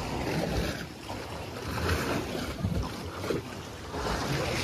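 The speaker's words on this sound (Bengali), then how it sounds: "দেখুন এই গুহাগুলোতে জলের কিরকম আওয়াজ করছে।" Water sloshes and echoes inside Talu Cave on the sea coast of Thailand, a continuous washing, wave-like rush mixed with gusty wind buffeting the microphone, moderately quiet and unbroken for several seconds.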